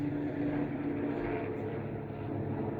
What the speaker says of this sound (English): Oh, it's a helicopter.